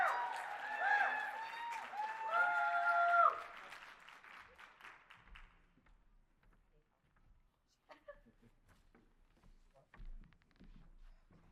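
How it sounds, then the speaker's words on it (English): At a policy panel conference, the audience applauds the panelists on stage. Fairly loud clapping runs for about five seconds while someone talks over it, then fades into near quiet with a few soft thumps and footsteps. "Give them another round of applause, guys."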